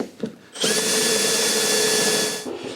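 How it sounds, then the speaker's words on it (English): Power drill boring out rivets on the exhaust manifold of an MGB GT: a few light knocks, then a loud steady whine close by for about two seconds before it winds down. "it's been riveted in, so I need to remove the rivets first"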